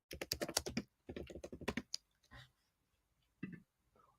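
Keys tapped in quick bursts on a standard laptop keyboard, close and fairly crisp, with a pause and a few scattered later strokes before a loud knock at the end.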